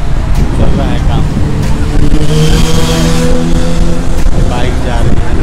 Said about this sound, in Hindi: बाइक जा रही है